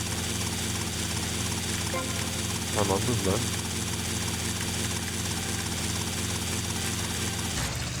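A helicopter in GTA Vice City drones with a steady engine and rotor hum throughout, while someone talks briefly over it.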